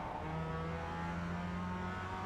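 A race car engine in the iRacing sim revs hard near the redline, a loud steady high-pitched drone with a sustained tone that holds without breaks.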